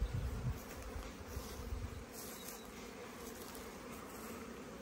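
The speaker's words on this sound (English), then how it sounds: "I'm going to put my hood up because there's a few bees around" Several bees hum and drone steadily around flowering ivy outdoors, a soft continuous buzz with slightly louder passes early on, no talking.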